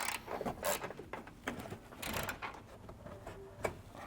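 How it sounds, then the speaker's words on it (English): A ratchet snugs down a rear bolt while a Roadmaster Direct-Connect base plate is installed on a 2025 Jeep, giving a few scattered close mechanical clicks and metallic clatters with short pauses between them. "Now we'll take our ratchet and snug down the one in the rear."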